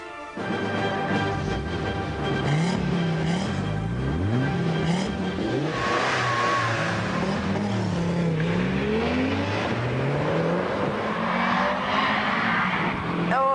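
An Audi with a turbocharged 2.1-litre five-cylinder engine races off the start line, revving hard through rising gear-change sweeps. It stays loud and close throughout, with tire noise mixed in.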